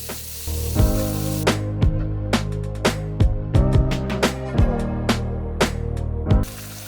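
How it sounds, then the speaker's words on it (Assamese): Loud, close sizzling of tomatoes frying in hot oil, broken by repeated sharp crackles and spatters, with stirring scrapes now and then. "তাৰপিছত বিলাহীখিনি দি অকণমান দেৰি ভাজি ল'ম।"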